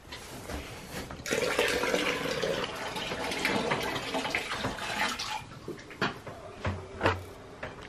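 Water gushes from a tap or hose into a container to give farm animals fresh water, a loud rushing pour that cuts in abruptly, runs steadily, then stops and gives way to scattered knocks and clunks.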